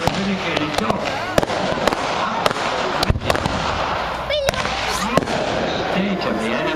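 Pyrotechnic rockets burst in a mock naval battle on a park lake, sharp cracks and bangs scattered over a constant crowd din and loud outdoor commotion, with whistling streaks between blasts; someone comments throughout.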